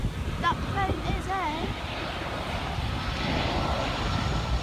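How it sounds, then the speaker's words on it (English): A fixed-wing airplane coming in to land at Puerto del Carmen, a steady loud engine roar and rush mixed with wind buffeting the microphone, with brief voices early on. "that's definitely a plane coming in. It's going to be landing over there."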